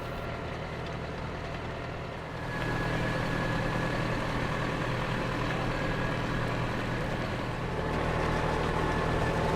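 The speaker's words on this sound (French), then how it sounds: "Notre journée débuta par un tour de tracteur à la ferme Belgimag située à Saint-Alphonse." A farm tractor's engine drones steadily during a tractor ride on a farm in Saint-Alphonse, a low continuous rumble that grows a bit louder partway through, with no talking.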